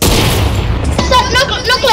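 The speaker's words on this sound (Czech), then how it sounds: "tady asi někdo střílí z ostrova" Gunfire in an online shooter game, with shots coming from an island: a low booming rumble of distant shots runs throughout, with a louder burst near the end, while players talk over it.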